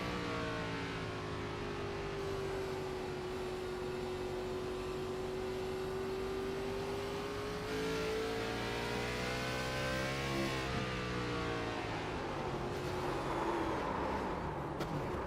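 Onboard race car engine at the Wilkes County Clash, a steady loud drone with harmonic pitch sweeps as the car speeds up and slows through the lap, no voices.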